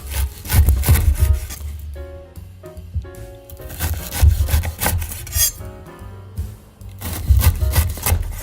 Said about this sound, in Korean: 이제 살짝 기다렸다가 썰을 거예요.